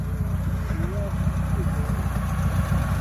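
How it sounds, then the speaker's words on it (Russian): A turbocharged UAZ off-road vehicle, its engine freshly rebuilt, idles with a steady low, throbbing rumble that stays even and close throughout, with faint voice-like sounds drifting over the top. "Первый выезд на турбовом УАЗе."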